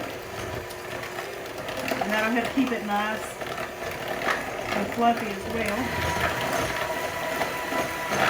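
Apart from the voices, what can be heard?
kitchen blender blending cream cheese mixture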